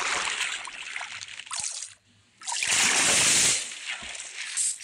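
A character in Minecraft jumps into water, setting off bursts of splashing and sloshing with a brief quiet gap between them.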